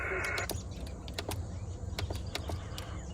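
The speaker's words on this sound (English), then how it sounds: "you can actually hear things clicking and clacking" A Yaesu ATAS-120 antenna retracting gives a run of sharp, dry clicks spaced irregularly over a low steady hum, close and moderately loud.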